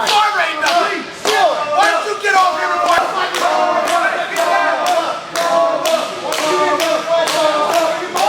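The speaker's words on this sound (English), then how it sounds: "They're trying to out-cheer one another." Two men at a women's wrestling event, W.O.W. King of New York, shout and cheer in rhythmic competing chants, loud and close, with steady clapping and slaps layered under their voices.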